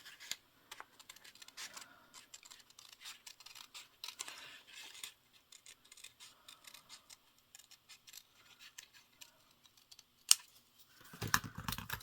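Small, sharp scissors snipping paper in quick, faint bursts of short crisp cuts, with a louder rustle and handling noise near the end.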